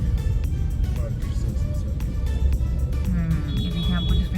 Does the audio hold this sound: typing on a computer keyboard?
no